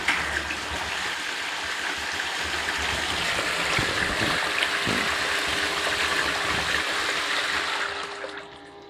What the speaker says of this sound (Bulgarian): Сега пускам и втората помпа. Виждате количеството вода, което изхвърлят.